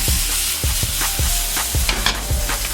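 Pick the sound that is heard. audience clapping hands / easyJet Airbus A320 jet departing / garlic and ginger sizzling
garlic and ginger sizzling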